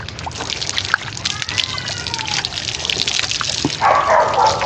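Water is poured from a bucket during a bath, a sloshing, splashing gush that swells loud near the end, with a person talking throughout.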